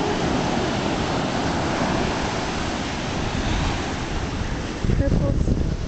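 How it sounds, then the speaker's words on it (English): Surf rolls onto a windy beach in a steady broadband wash, with gusts buffeting the microphone throughout and a louder surge near the end. "There's the pretty ocean."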